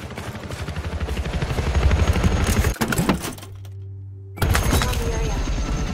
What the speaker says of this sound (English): Watch out! Incoming helo.